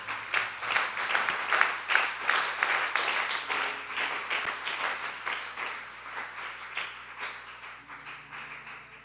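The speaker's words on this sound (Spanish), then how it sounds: "Dele fuerte el aplauso a Jesús." A church congregation applauds during a sermon, a dense sustained clapping that starts strong and gradually thins and fades over several seconds, with a faint low hum underneath.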